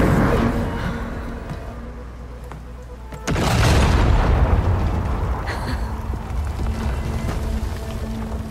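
Bombs go off in the video game Horizon Forbidden West: a sudden heavy boom breaks over quieter ambience and then rumbles on loudly for several seconds.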